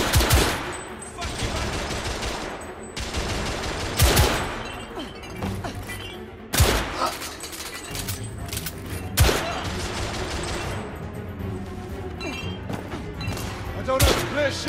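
Gunfire in the video game The Order 1886, with repeated sharp shots and bursts scattered across a busy battle soundscape, mixed with shouted voices and thuds.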